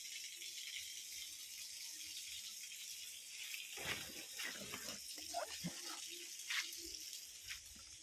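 Water runs from a pipe into a storage tank at a home, a soft steady rush with some splashing and rattling, louder bursts near the middle, with faint voices in the background.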